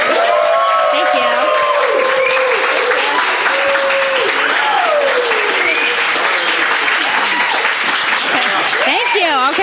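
Studio audience at a live podcast taping applauds loudly and steadily, a dense wash of clapping with scattered cheers and whoops running throughout, close and full.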